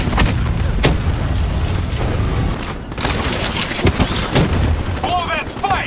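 Explosions and heavy gunfire during the spike detonation in Call of Duty Black Ops 3, sharp blasts and booms over a continuous rumble of battle, with a voice shouting briefly near the end.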